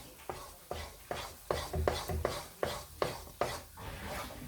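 Moong dal halwa being stirred in a kadai over a low flame gives repeated scraping strokes in a steady rhythm, about ten close, moderately loud swishes with no talking.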